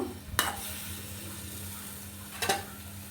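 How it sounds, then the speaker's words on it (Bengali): Egg and sweet pumpkin frying in a pan, a steady low sizzle with two short scraping stirs of the spatula, one near the start and one near the end. "ভালো করে নাড়িয়ে ছাড়িয়ে দিচ্ছি তারপরে একটা ডাকনা দিয়ে দিব"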